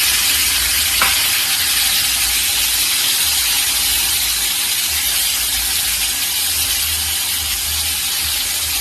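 Onions fry in oil with a loud, dense, continuous sizzle and hiss that holds steady from start to finish. A single faint clink comes early on, and no one speaks.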